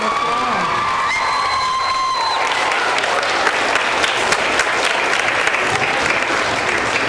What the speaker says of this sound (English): Let's welcome him and give him a round of applause.